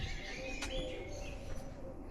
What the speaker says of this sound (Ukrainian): Ви чуєте ці пташки, як гарно співають